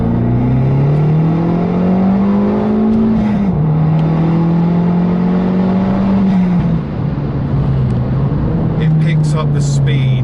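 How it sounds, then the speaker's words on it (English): Turbocharged, modified Abarth 595 with about 225 bhp and a big turbo, pulling hard in second gear at full boost from 30: a loud, steady engine drone climbing in pitch with a brief dip at a shift, with turbo whoosh and chatter near the end. "I'll show you a quick second gear pull now, sitting at 30,"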